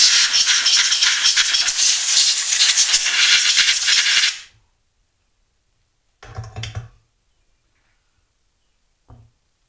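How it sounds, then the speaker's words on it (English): Compressed air hisses in a loud, steady blast for about four seconds while blowing off parts from a 10-litre heated industrial ultrasonic cleaner, followed by two short, quieter puffs after a pause. "But I always take air and blow them off anyway."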